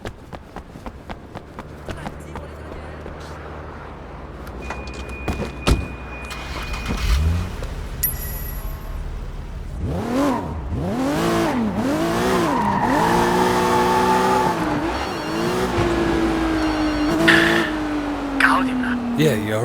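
A car engine in the video game Sleeping Dogs Definitive Edition on PS5: after clattery impacts and noise, the engine revs up and down in repeated surges, then settles into a loud, steady acceleration with a rising whine, close and continuous.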